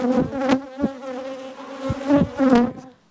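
Honeybee foragers buzz around beehives that have just been moved. The buzzing is close, with insects passing the microphone in several brief, loud swells over a steady background drone. No one speaks.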